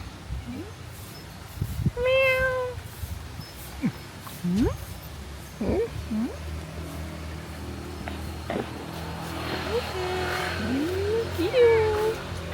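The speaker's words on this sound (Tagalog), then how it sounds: "Ang daming cute na pusa" Several cats meowing at a resort, a mix of short and drawn-out meows scattered across the stretch, some close and clear, others fainter, with people talking softly in between.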